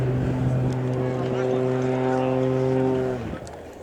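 A 330 horsepower aerobatic display plane flies at an airshow, its propeller engine droning loudly with a steady, strongly tonal note before abruptly dropping off.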